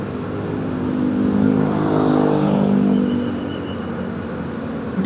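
A motorcycle engine pulls along a Jakarta street, its drone swelling as it accelerates, then easing back, with steady road noise throughout.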